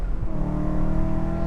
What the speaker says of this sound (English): Oh, what a glorious engine.